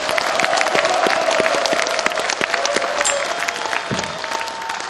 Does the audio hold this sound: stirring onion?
no